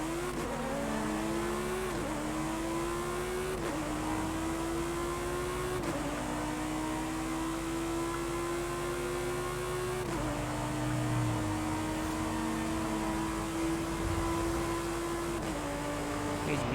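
A Lamborghini in a racing video game accelerates hard, the engine note climbing and dropping at each gear shift in a steady, loud run with continuous tire and road noise.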